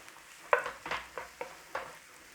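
Mushrooms and onions fry in butter and oil, a faint sizzle punctuated by five or six soft, evenly spaced stirring scrapes, close and quiet with no talking.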